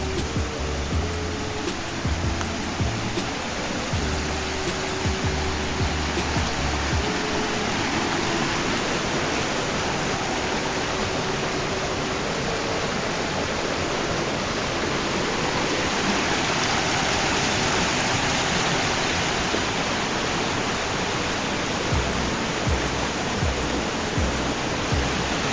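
A noisy river rushes through a forest, a dense, steady broadband roar of flowing water that stays loud and continuous throughout with no voices.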